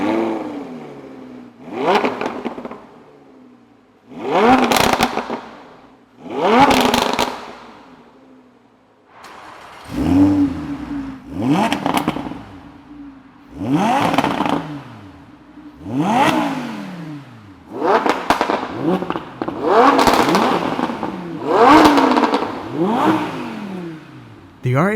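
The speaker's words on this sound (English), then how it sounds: "The R8 has a deeper, more masculine growl to it, slightly less crackles and pops." A Lamborghini Huracan and an Audi R8, both with 5.2-liter V10 engines, take turns revving loudly: about ten sharp throttle blips rising and falling in quick succession, close by and with no talk.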